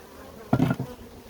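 A short, close burst of honeybee buzzing near beehives swells for a fraction of a second against a quiet background.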